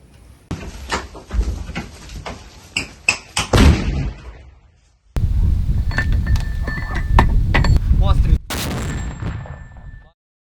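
Heavy booming blasts and thuds of French 120 mm mortar fire, some close and loud, mixed with clattering and rustling, with short gaps between bursts.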